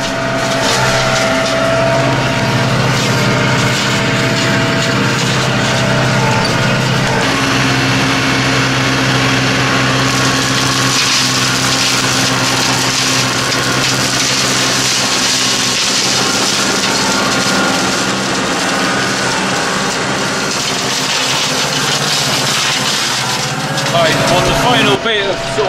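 A tractor-mounted hedge trimmer runs continuously while tidying a headland before trimming the hedge, its engine a loud, steady drone with a slight change in pitch partway through, and someone talks over it.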